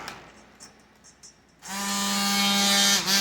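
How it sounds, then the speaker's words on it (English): After a moment of near silence with faint clicks, a blender motor kicks on and whirs steadily and loudly, with a slight dip near the end. "I'm gonna turn this on, and we're gonna start blending"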